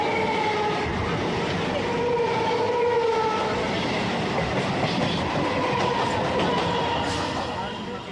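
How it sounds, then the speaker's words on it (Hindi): A Krishnapur City local train passes close alongside on the Sealdah–Barrackpore suburban line near Agarpara, giving a steady loud rumble and clatter of rail cars that holds throughout, with a faint horn-like tone mixed in. "अब हमारे ट्रेन को क्रॉस करके निकल रही है कृष्णापुर सिटी लोकल"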